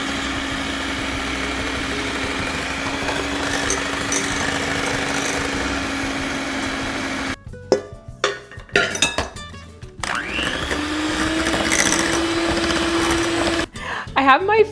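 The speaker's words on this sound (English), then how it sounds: "our egg and coconut oil while I beat it at a low speed" Electric hand mixer beating egg with coconut oil at low speed for brownie batter, a steady motor whine running loud for about seven seconds, then pausing amid clatter before resuming.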